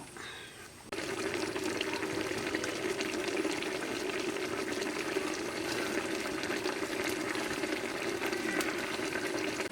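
Fish cooking in a pot in a village kitchen, a steady bubbling, sizzling wash that starts abruptly after a quiet first second and stays even and close throughout, with no talk.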